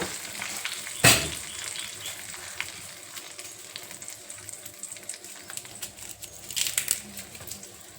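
Curry leaves and turmeric tempering in hot oil, a loud crackling burst as they hit the oil, then a continuous sizzle with another flare of spitting near the end, no voices.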